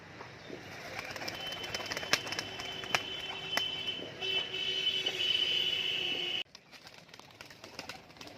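Giribaz pigeons of the tolgorom type coo in a loft, soft repeated throaty coos layered over a steady background hiss, with occasional clicks and rustles and no speech.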